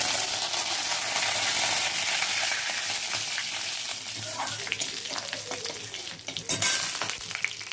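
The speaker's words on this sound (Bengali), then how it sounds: "সরষেটা আমার ফুটে এসছে, এরপরে আমি আদা কুচিটা দিয়ে দেবো তেলের মধ্যে" Mustard seeds, chopped ginger and curry leaves frying in hot oil, a loud continuous sizzle with scattered popping seeds and sharp spoon clinks against the pan growing more frequent toward the end.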